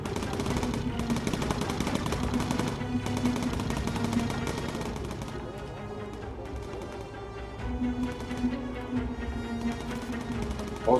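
Bomber gunners in the game Bomber Crew open up with machine guns, a dense stream of rapid bursts layered over steady engine drone, with brief pauses in the firing.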